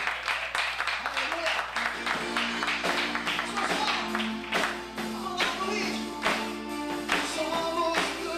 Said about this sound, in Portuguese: dê um lindo aplauso a Ele